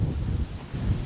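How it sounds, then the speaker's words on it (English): Gusty wind buffets the microphone on a cold, exposed hilltop at night, a brief low rumbling rush with no other sounds. "Definitely a windy spot."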